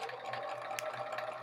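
A sewing machine stitching a quilt block seam through layered fabric, a brief steady whirring hum with fine rapid needle ticks, close and fairly soft.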